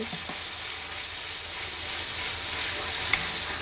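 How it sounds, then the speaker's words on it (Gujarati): Ginger, garlic and chili paste added to hot oil with tomato purée for an undhiyu base, giving a steady close sizzle throughout and a single sharp clink near the end, with no talk. "પછી તેમાં નાખીશું આદુ લસણ મરચાંની પેસ્ટ"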